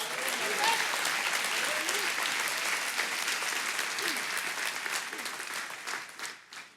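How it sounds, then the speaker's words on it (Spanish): A church congregation claps steadily and densely for several seconds during a Spanish-language service, with a few voices calling out over the applause before it thins and fades away at the end. "Denle un aplauso a Dios."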